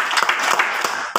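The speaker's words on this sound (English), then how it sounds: "Please a round of applause to them." A brief burst of audience clapping at a water and sanitation launch event in Lagos, loud and close, lasting about a second.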